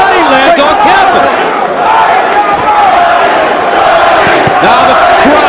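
A loud boxing arena crowd roars and cheers continuously during a pro fight between John Duddy and Luis Ramon Campas, a dense, sustained wall of voices with no pauses.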